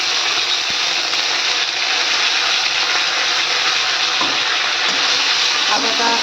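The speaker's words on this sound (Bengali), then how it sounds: "পাঁচফোড়নটা একটু ভেজে নেব।" Whole panch phoron spices frying in hot oil give a steady, close hiss and crackle that runs unbroken throughout, with a few faint clicks and knocks near the end.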